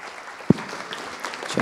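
An audience at a Skepticon talk claps for a speaker: a faint wash of applause with one sharp, close clap standing out.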